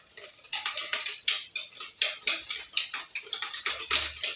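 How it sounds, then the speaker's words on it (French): A metal whisk beats egg yolks with sugar in a bowl, giving a quick run of rhythmic clinking, scraping strokes, close and moderately loud, with no talking. "je prends mon fouet, je bats mes jaunes avec mon sucre"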